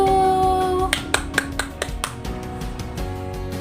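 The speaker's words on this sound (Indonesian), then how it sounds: "Kita beri tepuk tangan dulu untuk kelompok 1." Primary school pupils clap for group 1 in a classroom, a string of sharp, fairly close claps in a loose rhythm following a sustained tone that fades out.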